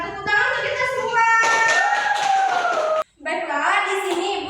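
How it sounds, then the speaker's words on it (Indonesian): Children in a school classroom lesson on home and school rules clap together in bursts of applause, with a teacher's voice and children's chatter mixed in and a brief pause near the end. "minta tepuk tangan untuk kita semua"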